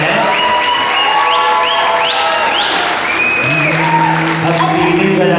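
A gala night audience claps in a dense, loud, continuous wash while voices call and shout over it throughout.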